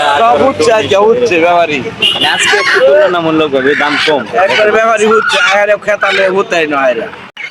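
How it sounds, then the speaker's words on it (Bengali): Native roosters crow and cluck loudly at a rural poultry market, mixed with close, continuous talking. "এই যে পাশে দেশি মোরগ গুলো সারি করে নিয়ে বসছে"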